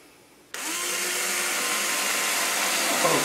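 Power drill with a 1/16 inch bit boring a pilot hole into wood for an HRail frame build, a sudden steady high whine that starts abruptly and holds loud and close without a break.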